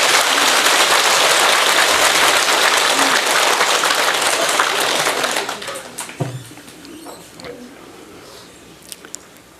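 An audience at a Buddhist dharma talk in a wintry hall bursts into thick, loud applause that runs for about five seconds, then tapers into scattered claps and quiet room noise.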